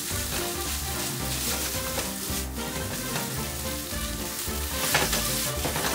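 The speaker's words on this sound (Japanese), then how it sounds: "バターとツナの油で米をコーティングし、旨味をまとわりつかせるイメージでよーくかき混ぜる" Rice is stir-fried with tuna and butter in a hot pan. A loud, steady, close sizzle continues throughout, with stirring scrapes and no talking.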